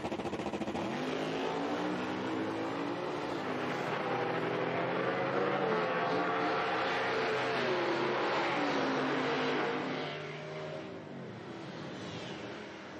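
A Camaro drag race car at an IHRA Outlaw Nitro Series Pro Am final roars loudly and steadily at the start line, its engine revving and surging with rising and falling pitch before easing slightly near the end.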